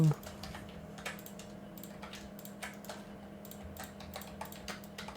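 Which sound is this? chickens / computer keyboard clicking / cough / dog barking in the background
computer keyboard clicking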